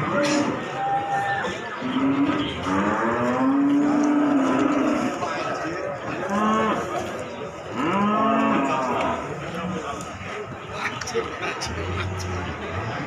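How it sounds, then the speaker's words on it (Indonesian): Limousin cattle at a busy cattle market in Pati, with loud, drawn-out moos rising and falling close by, heard under a steady babble of people talking. "Ada satu ekor sapi limusin."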